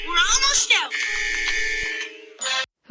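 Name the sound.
school fire alarm ringing in a cartoon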